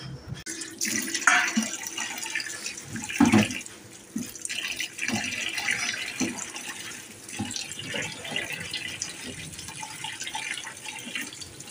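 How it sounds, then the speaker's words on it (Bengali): Tap water runs into a sink while fish are washed at home: a continuous splashing gush with shifting surges and handling clatter, close and fairly loud throughout. "মাছগুলো কোটা হয়ে গেছে, মাছগুলো ধুয়ে দিয়েছি"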